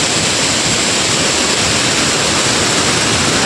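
Rushing water pours continuously, a dense, loud, even roar from a village waterfall at Khad Khambhadiya close by, with no voices.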